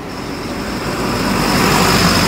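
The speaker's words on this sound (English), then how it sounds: "There's a bus coming." A large bus on a narrow road in Jamaica approaches, a loud broadband rumble of engine and tyres swelling steadily as it nears, with no talk over it.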